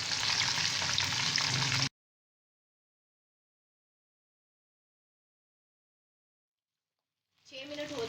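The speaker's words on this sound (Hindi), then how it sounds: "अब दूसरी तरफ से भी हमने इसको 6 मिनट ही फ्राई करना है" Lahori chargha chicken fries in ghee with a dense, loud sizzle for about two seconds, then a long silent gap before the crackling returns near the end, a voice speaking faintly over it.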